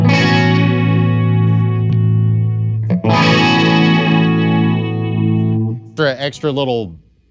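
Electric guitar through a Strymon Deco pedal's tape delay in bounce mode, two sustained strummed chords ringing with thick modulated repeats, then a few short plucked notes echoing, loud and close.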